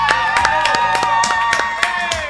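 A studio audience greets an arriving guest with a burst of sharp, rhythmic clapping, close and bright, holding steady for a couple of seconds.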